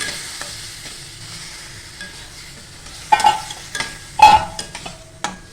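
A spoon stirs roasted semolina with lukewarm milk in a heated pan, sounding as soft scraping and sizzling with a few sharper clinks against the pan toward the end, close up and without talk.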